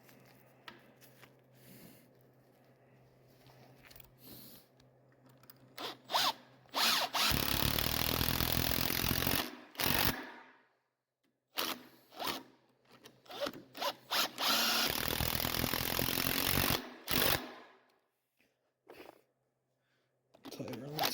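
A power drill whirs in two long bursts boring into wood, with clattering handling noises and brief pauses between.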